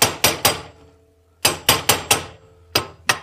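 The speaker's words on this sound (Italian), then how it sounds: "prendo un cacciavite più grande da poter battere e ripiegarla" Sharp metallic hammer blows strike a screwdriver to bend back a washer on a Piaggio Si scooter transmission, coming in quick clusters of three and four with short ringing decays and pauses between.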